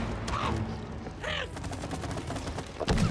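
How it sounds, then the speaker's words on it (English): Green balls are fired off in the video game It Takes Two, a steady run of rapid popping shots with other game effects and music layered over them. "Little baby shooting those green balls."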